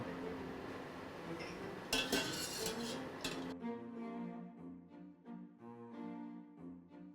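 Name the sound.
scooping cooked potatoes onto a rack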